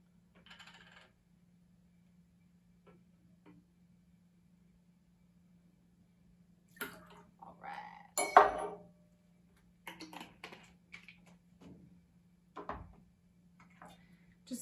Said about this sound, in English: Just stir till the sugar dissolves.